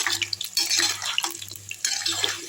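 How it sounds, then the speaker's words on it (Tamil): Mutton and potato pieces deep frying in hot oil give a busy, close, steady sizzle and crackle with a bubbling hiss, with no talking. "இப்போ இது எல்லாத்தையும் போட்டாச்சு ரெண்டு பேட்சாக பொறிச்சு எடுத்துடலாம்"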